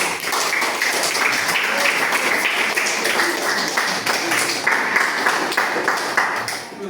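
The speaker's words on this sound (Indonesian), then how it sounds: "tepuk tangan untuk kelompok 3" A classroom group applauds another group of students during a coding and artificial intelligence training session, producing steady dense clapping that continues evenly for several seconds with no talk over it.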